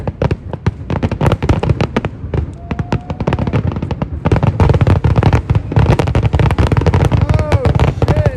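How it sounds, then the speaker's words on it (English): Fireworks explode overhead at a Chicago Fire game in a loud, rapid barrage of crackling bangs that keeps going without a break, while people talk and react close by. "Do you see those fireworks?"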